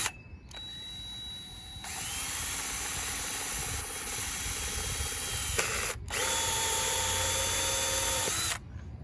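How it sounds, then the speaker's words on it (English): A power drill whirs loudly with a hole saw, running in two long bursts separated by a brief pause, close up with no talking. "Take your hole saw,"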